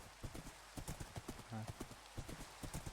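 Horse hooves clopping in the Minecraft video game, a quick run of regular, fairly loud hoofbeats under a voice talking.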